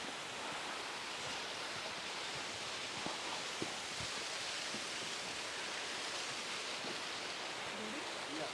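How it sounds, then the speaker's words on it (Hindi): A waterfall beside a bridge in Bhutan gives a steady, broad rushing roar that stays constant throughout, fairly near, with a few faint knocks underneath and no clear talk. "आगे एक झरने का शोर सुनाई दे रहा है"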